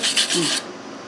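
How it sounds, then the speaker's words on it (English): A stitch weld on a steel winch mount is scrubbed clean, giving a short, loud, gritty rasping burst that stops abruptly after about half a second. "Let's clean this weld up, see what it looks like."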